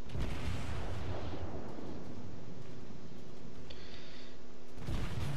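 Heavy naval gunfire from the Japanese cruiser Furutaka in World of Warships, a sustained rumbling barrage of booms with a low drone beneath and a fresh blast near the end, no voices.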